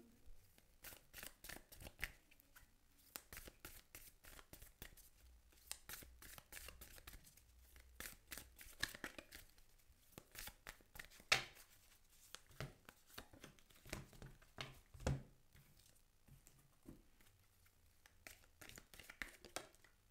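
Oracle cards shuffled by hand at close range, a quiet run of soft riffling and slapping strokes that repeats in quick bursts with brief pauses, alone with no talking.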